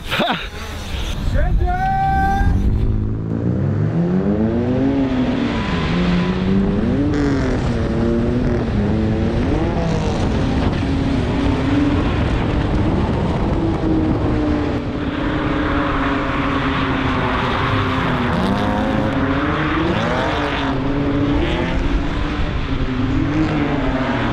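Drift cars competing head to head in a drift run, engines revving and wailing with rising and falling pitch throughout, loud and continuous, with a commentator talking over them.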